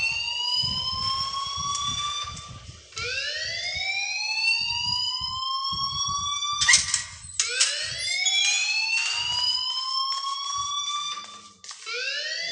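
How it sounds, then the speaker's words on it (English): Blaring fire alarm from the video game Life Is Strange: repeated rising, siren-like electronic sweeps in a steady loud cycle, with faint low thumping underneath throughout. "please turn off that alarm since that's your job"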